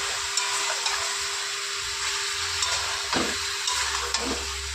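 Pieces of chicken sizzle steadily in a hot pan, a close, even hiss broken by a few scraping stirs.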